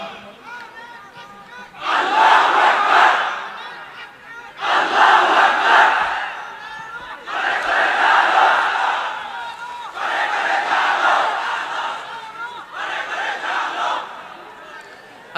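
A large crowd shouts Allahu Akbar in unison, answering a preacher's call at an outdoor Islamic religious gathering. Five loud, sustained chanted bursts repeat at steady intervals with short pauses between them.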